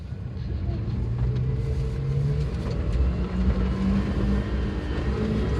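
A 2004 Suzuki Jimny's engine labours off-road in low ratio on loose soil, a steady close low rumble with slight rises as it revs, rough and noisy throughout.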